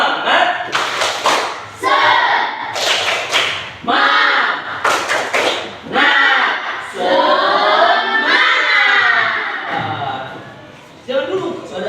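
A classroom of students performs a rhythmic spirit clap, loud bursts of clapping alternating with chanted group voices in a repeating pattern close by.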